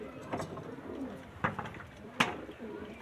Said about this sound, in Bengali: এটাও ফিমেল পায়রা,